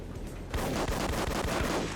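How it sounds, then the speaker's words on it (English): Pipe bomb blasts in the Duke Nukem: Manhattan Project video game, a dense run of loud, sharp booms and crackling bursts kicking in after a brief lull and continuing throughout. "Throw pipe bomb, which should blow up both cameras"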